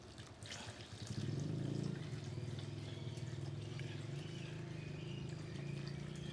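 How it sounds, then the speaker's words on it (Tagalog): Water pours steadily into a cooking pot for pork afritada outdoors, a continuous gurgling stream that starts softly and holds at an even, fairly quiet level. "maglalagay na po ako ng tubig"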